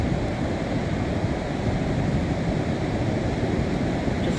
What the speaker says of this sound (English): it comes right into the mouth of the river and mingles with the river water